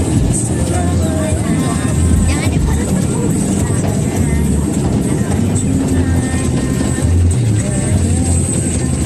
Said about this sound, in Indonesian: ada helikopter deh